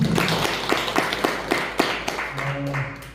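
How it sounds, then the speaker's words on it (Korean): Scattered applause from participants at a roundtable meeting, a modest patter of separate claps at moderate distance that thins out and fades, with a faint low hum or voice near the end. "우리 부장님 박사님 열심히 해달라고 박수 한번 쳐드립니다."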